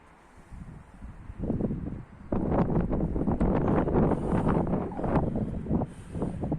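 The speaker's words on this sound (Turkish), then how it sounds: "Rüzgar felaket. Bugün çok esiyor." Strong wind buffets the microphone in loud, rumbling gusts outdoors near a pigeon coop, building after a quieter start and roaring steadily to the end.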